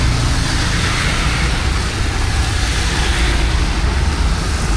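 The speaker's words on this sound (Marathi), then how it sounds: "तो पावसाळा आता खूप जोरात चाललेला आहे" Heavy monsoon rain pours down on a Mumbai street as a loud, steady wash of noise, with a low rumble from passing traffic underneath throughout.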